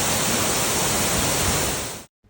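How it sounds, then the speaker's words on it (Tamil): Water crashes down an artificial indoor waterfall in Singapore, a loud, dense, continuous roar close by that cuts off abruptly near the end. "தண்ணி சவுண்டு இயற்கையை விட செயற்கை செம்மையாக இருந்துச்சு"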